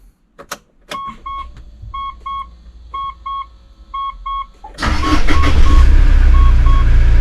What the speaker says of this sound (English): we've just put the starter motor in, so let's see if she turns on